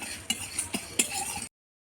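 Whole spices being dry-roasted together in a pan: coriander, cumin, fennel, black pepper, dried red chillies, cardamom, cloves and cinnamon. A faint stirring scrape with a few soft clinks of a utensil against the pan, then silence.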